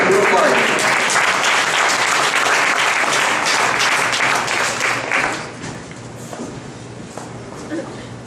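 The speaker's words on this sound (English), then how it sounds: "Give a round of applause." Audience applause welcoming a panel onto the stage at a Mobile Monday Silicon Valley meeting, loud and dense for about five seconds, then thinning to scattered claps and murmuring voices.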